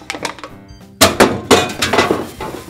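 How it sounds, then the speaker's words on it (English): An aluminum can is picked up and clattered down among other recyclables, giving a few loud metallic clinks and thunks in quick succession. "An aluminum can."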